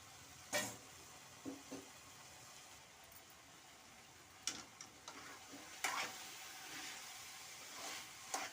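Bitter gourd stir-fry cooking over low heat in a pan, with a soft background sizzle broken by a few sharp clinks and scrapes of stirring.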